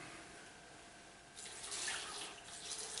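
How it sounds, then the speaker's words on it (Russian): Water poured from a glass into a blender while making a microgreens smoothie; faint background hush, then a soft splashing pour begins partway through and continues to the end. "Так, ребята, теперь добавляем водички."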